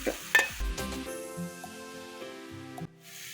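Onions and tomatoes sauté in a pan as masala powders of pepper, coriander, chili and turmeric go in, a quiet sizzle broken by scraping, stirring clatters and a few utensil knocks, no speech.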